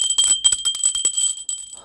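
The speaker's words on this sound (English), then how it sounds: "Let's ring the bell on that." A bell rings out in quick, bright jingling strokes, its shimmering high tones repeating in an uneven rhythm and ringing on between hits, close and alone with no talk.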